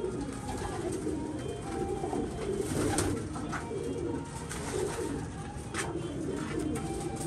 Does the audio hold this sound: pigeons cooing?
yes